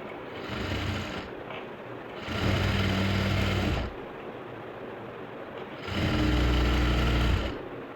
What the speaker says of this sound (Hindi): अब इस तरह से पलटते हुए इसकी किनारे पे भी सिलाई लगा लेंगे